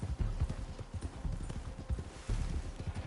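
Hooves clip-clop in a steady, fast rhythm as a horse is ridden in an open-world western game, a continuous, moderately quiet patter of hoofbeats.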